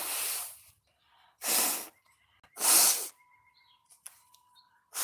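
A person sniffles hard through the nose three times in a quiet room, each loud nasal inhale spaced about a second apart, with faint small handling noises between them.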